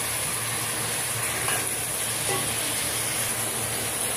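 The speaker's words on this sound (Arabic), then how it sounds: "شايفين بقى بدأت تتشوح اهي" Chopped meat sautéing with onions in a pan for an Egyptian turli vegetable casserole, giving a steady, close, even sizzle and hiss with no talking over it.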